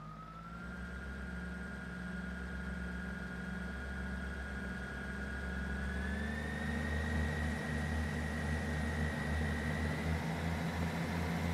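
A Class 158 diesel train in Train Sim World 3 pulls away, a steady engine drone with a rising whine that climbs in pitch as it accelerates, continuous and alone.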